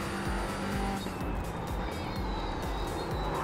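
A race car in a racing video game screams through a qualifying lap at Suzuka, its engine droning loud and steady with rhythmic gear-change pulses throughout.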